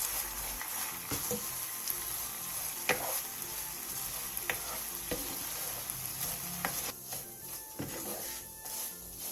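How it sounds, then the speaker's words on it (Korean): Anchovies being stir-fried and tossed in seasoning for a Korean side dish, with a steady close sizzle broken by repeated scraping and clicking strokes of the utensil in the pan, and no voices. "그 다음 멸치를 넣고 양념이 골고루 묻을 수 있게 볶아주세요."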